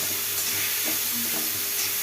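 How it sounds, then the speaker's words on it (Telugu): Drumstick pieces are stirred in hot oil tempering for a jaggery drumstick curry, a close, steady sizzle with soft scraping stirs and a few light knocks of the utensil. "పోపులో వేసి 4 ముక్కలు ఇలా కలుపుకోండి"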